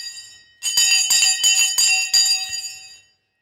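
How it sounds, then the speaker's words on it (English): A stock market bell rings out in a rapid series of bright metallic strikes for about two and a half seconds, loud and close, then cuts off into silence. "I've even missed the bloody bell."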